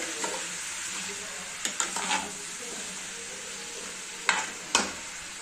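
Bottle gourd pieces and green chillies fry and sizzle steadily in a pan while a spoon stirs them, with a few sharp scrapes and clinks against the pan's side.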